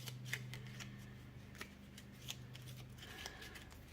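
Uno cards being shuffled by hand at a table, with a few soft crisp riffles and slides over a faint low hum.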